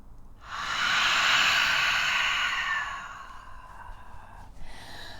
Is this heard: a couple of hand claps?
no